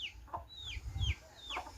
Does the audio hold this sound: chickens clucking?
yes